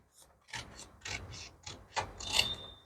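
Scissors cutting the deep armhole of a blouse fabric piece, a series of about five close, crisp snipping and rasping strokes, quiet and alone without talking.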